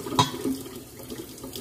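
Water runs from a kitchen tap while cream cheese brownies are being made, a steady hiss with a brief louder splash near the start before the flow is shut off.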